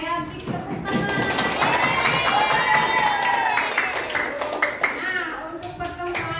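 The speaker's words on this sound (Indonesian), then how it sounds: "Beri tepuk tangan." A classroom of children claps for a student, with quick, fairly loud patter of small hands and children's voices chattering and calling over the clapping throughout.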